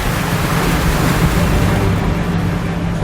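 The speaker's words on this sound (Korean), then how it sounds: "그런데 파도의 움직임이 예사롭지 않습니다." Ocean waves roll around a yellow croaker fishing boat at dawn on a day of rough, unusual swells, heard as a steady, loud wash of surf and wind noise with no voices.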